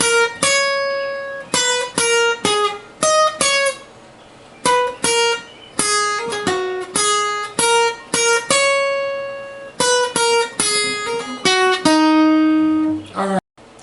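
A bright electric guitar plays a quick lick from the break of a song, plucked single notes and bends in short bursts with brief pauses, close and fairly loud, ending on a sustained note.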